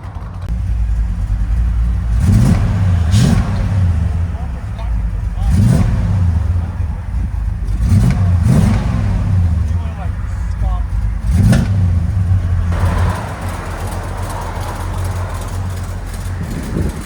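A 1966 Chevy C10 pickup with a V8 and Thrush mufflers revs repeatedly, a deep throaty rumble rising in several sharp bursts over a steady idle, heard loud and close, likely from inside the cab.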